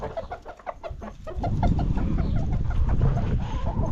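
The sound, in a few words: chickens clucking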